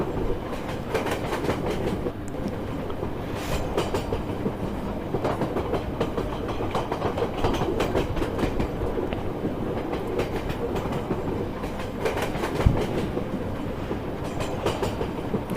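A simulated Indian train runs steadily along the tracks on the Danapur to Patna route, giving a continuous loud rumble with recurring clickety-clack wheel beats and no voices.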